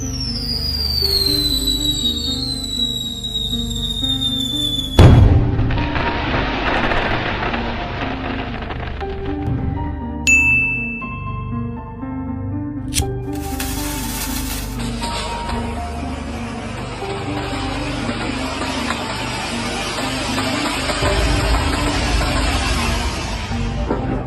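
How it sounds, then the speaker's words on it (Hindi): Firecrackers are set off outdoors: high whistling rockets fall in pitch, then sharp bursts and crackling pops follow in several loud rounds over a hissing, rain-like background. "ऐसे ही ये लोग सारे पटाखे फोड़ने लगते हैं।"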